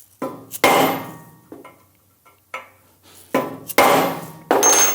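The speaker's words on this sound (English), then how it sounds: "we're gonna get a bigger punch and just really define those center marks" Sharp metallic hammer blows on a center punch marking steel for drilling ring out one at a time, some light taps and several hard strikes, close by with brief pauses between.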